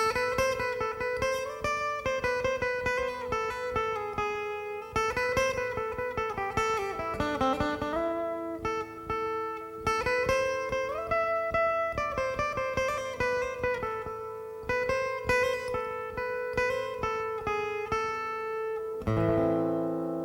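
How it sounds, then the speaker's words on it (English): Single steel-string guitar notes are plucked one after another in a slow, melodic lead line, each ringing out clearly with no voices. "all I'm doing is I'm playing some individual notes so you can hear what lead guitar is like"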